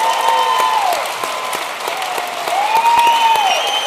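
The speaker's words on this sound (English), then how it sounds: "Let's give them a round of applause." Sustained audience applause after a poetry performance at the Afrik Impact 2023 event, a dense steady wash of many hands clapping at even loudness throughout, with no talking over it.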